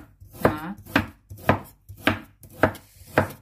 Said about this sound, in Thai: หั่นบางๆเพื่อช่วยให้เครื่องปั่น จะได้ไม่ใช้แรงเยอะนะคะ